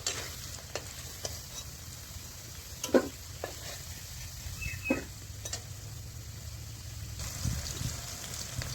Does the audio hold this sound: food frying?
yes